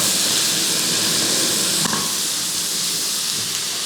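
Sliced onions sizzling and frying in hot oil in a pan, with curry leaves added, a loud, continuous hiss with a brief stirring clatter partway through.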